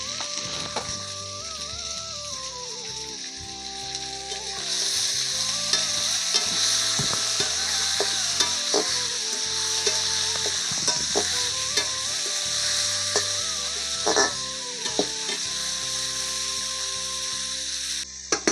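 Dheki greens with turmeric and salt fry in a pan, a steady close sizzle running throughout while a utensil stirs and scrapes against the metal in scattered clinks and knocks.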